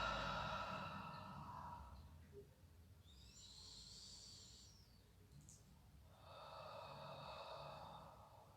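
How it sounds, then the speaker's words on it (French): Slow, deep breathing during a guided floor relaxation exercise, long audible inhales and exhales alternating with a quiet pause between them, close and soft with no speech. "Et on va respirer."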